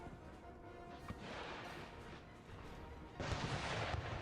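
Cannon artillery fire in the Empire Total War battle game, with booming shots, a sharp crack near the one-second mark and a louder burst of fire toward the end, over a dense continuous battle din.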